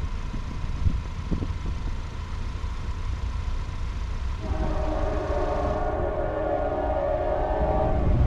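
Norfolk Southern freight manifest train led by a Dash 9 locomotive, rolling slowly westbound: a steady low rumble of rail cars and engine, with sustained horn-like tones coming in partway through, loud and close, no talk.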